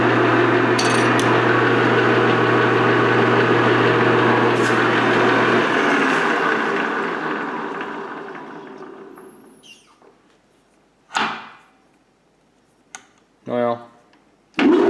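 A metal machine-shop machine runs on bed feed with a steady, loud mechanical drone and a low hum, then winds down to near silence, followed by a few short knocks and clatters.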